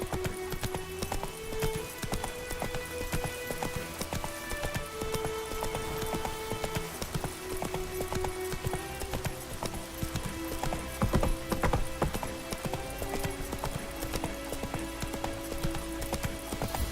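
Hooves of Roach, a horse in the video game The Witcher 3, pound in a rapid, steady galloping rhythm for the whole stretch, close and clear over a dense rain-like hiss with faint game music.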